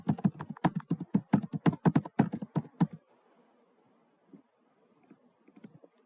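Rapid clacking of computer keyboard keys as a name is typed, a quick irregular run of crisp close taps for about three seconds, then near silence with a few faint scattered clicks.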